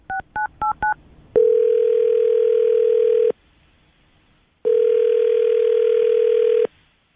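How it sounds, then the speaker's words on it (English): Four quick touch-tone beeps followed by two long, steady ringback tones separated by a pause, clear and close with no talking. "I'm going to dial the phone number right now."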